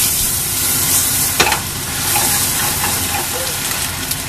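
Turmeric and Kashmiri chili powder for hotel-style egg masala frying in a pan, a loud continuous sizzle with hiss and a sharp spatula clack as the spices are stirred; no talk.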